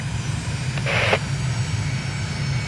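A jet aircraft taxiing in Microsoft Flight Simulator, a steady low engine rumble and whine throughout with a brief higher burst of noise near the one-second mark.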